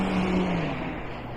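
Street traffic in Bayer's Lake, Halifax, Canada: a car rolls past with a steady broadband road roar and a low engine hum that dips slightly as it goes by, moderately close, with no talking.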